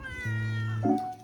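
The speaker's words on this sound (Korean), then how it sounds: "야옹이" A cat meows at a campsite, drawn close by the smell of French rack lamb grilling over charcoal: one drawn-out, clear meow followed by a short rising second cry, close and loud with no talking.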